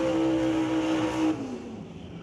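Turbocharged drag racing cars launch together at a Doorwarz event, a loud burst of engine roar with a high whine that drops away quickly as the cars pull off.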